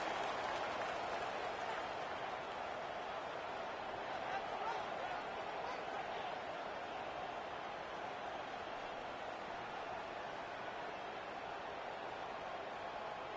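A stadium crowd in the College Football 26 video game roars steadily after a kick, a dense, even wash of cheering noise with no breaks.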